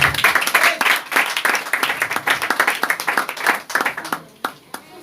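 A church congregation claps together in a fast, steady rhythm, loud and close, the claps thinning out toward the end with a few last scattered claps.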